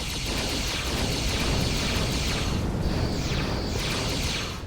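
In the Star Trek Armada space-strategy game, a space battle produces a dense, continuous roar of explosions and weapons fire. It stays loud and unbroken, with no talking.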